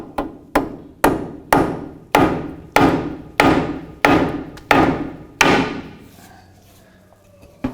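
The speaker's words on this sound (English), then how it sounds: "Take a small hammer or whatever you have." Ten sharp metallic taps from a small hammer on a front inner tie rod of a 2007-2013 Mitsubishi Outlander in a steady rhythm, each ringing briefly, then a pause with faint scraping and one last tap.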